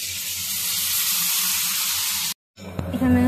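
Onions and soybean chunks frying in a pan give a steady, bright hiss. The sound cuts out briefly near the end, then comes back with a few louder pops.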